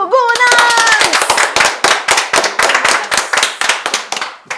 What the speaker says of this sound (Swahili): makofi ya The Jogonas